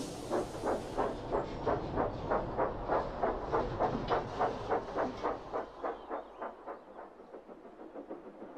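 Toby, a small steam tram, straining uphill with heavy slate-laden freight cars: a steady rhythmic chuffing that slowly fades and thins as it goes on.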